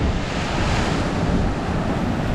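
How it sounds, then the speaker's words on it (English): Ocean waves surge and crash continuously at Leo Carrillo beach in deeper water, a loud, dense roar with wind buffeting the microphone throughout and no voices. "Here comes the wave."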